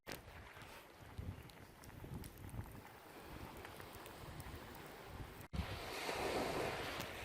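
Ocean surf rolls onto a West Coast Trail beach on Vancouver Island at high tide, a faint, continuous wash of breaking waves mixed with wind buffeting the microphone.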